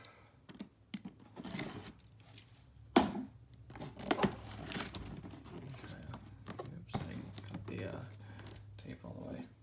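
A knife slices and tears through packing tape on a cardboard box holding a 2003 Lakewood PH10 personal heater, with rapid scratchy cutting and crinkling bursts close up, interrupted by brief pauses.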